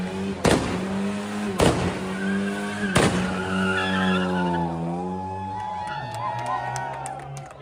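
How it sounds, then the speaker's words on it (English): A small, beat-up car does a burnout with a droning engine and tires skidding, broken by sharp bangs, while a crowd cheers and shouts throughout. "A guy in a piece of crap car doing a really bad burnout"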